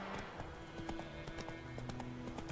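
A horse's hooves clop in a steady, even rhythm in The Witcher 3: Wild Hunt, a quiet, continuous trot heard alone over faint game ambience.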